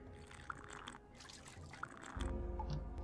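Drinking water from a wooden barrel in the video game Risen, soft liquid trickling and slurping, then a louder steady gulping swell near the end, with no talk.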